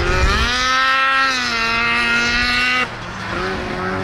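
Snowmobile engine revving steadily in the background at a snowmobile outing, a strong rising and falling engine whine that holds for nearly three seconds, then drops away to a lower, quieter idle.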